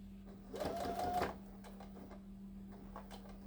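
A sewing machine stitches off the edge of a fabric headcovering in a short, fast run, its rapid ticking followed by a few faint clicks over a steady low hum.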